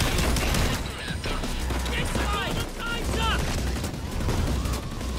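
Minigun firing in PAYDAY 2, a continuous roaring stream of rapid gunfire that holds steady and loud throughout, with voices talking over the barrage.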